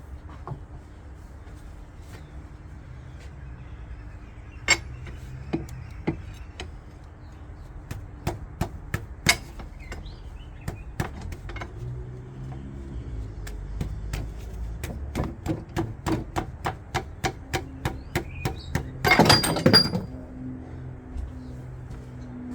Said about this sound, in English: let me just try hitting it with the crowbar from the top and pushing it out